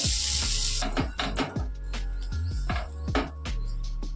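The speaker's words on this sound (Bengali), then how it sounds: "এবার এর মধ্যে আমি জল দিয়ে দেবো।" Water pours into a pan of cooking ghugni, a chickpea and potato curry, with a brief rushing splash at first, followed by bubbling and clinking sounds up close.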